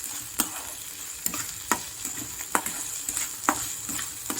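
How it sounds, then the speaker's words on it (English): Onions fry in a pan with a constant bright sizzle, punctuated every half second or so by sharp stirring scrapes, close and fairly quiet, with no talk. "Now you can see the onions have become translucent."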